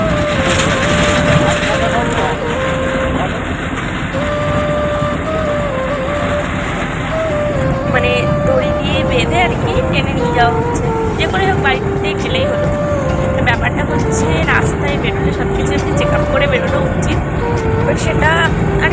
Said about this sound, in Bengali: আমরা তো আছি অটোতে রিজার্ভ করে নিয়েছি অটো